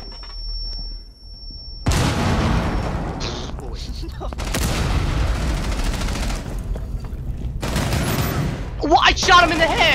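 Bursts of automatic gunfire and booming shots in a shooter video game, loud and dense, with a short lull between volleys and a player's excited voice cutting in near the end.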